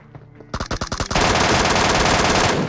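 M4 rifle fire in PUBG Mobile, heard up close: a quick run of separate sharp shots gives way to a loud, dense stream of automatic fire.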